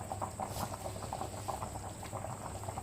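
Pot of chepala pulusu, a tamarind fish curry, boiling softly on the stove, with quiet rapid bubbling and popping repeating steadily throughout.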